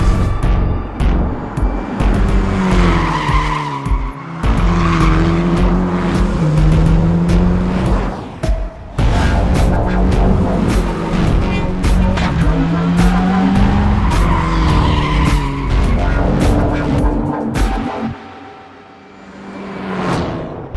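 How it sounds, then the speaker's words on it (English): Cars from Cyberpunk 2077 roar past with loud engines revving and shifting, while tires squeal and skid almost constantly in a dense, close, continuous racing mix. "Our teams went to incredible lengths to recreate and capture the sounds that really bring these vehicles to life."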